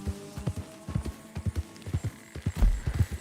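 Horse hooves clip-clop at a steady walking rhythm while the horse is ridden in Red Dead RP, each hoof hit close and distinct over a low background hum.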